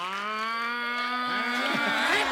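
A voice imitates a buffalo's moo as a joking insult on a comedy show stage, one long, steady, loud lowing drone that bends and wavers toward the end, heard alone.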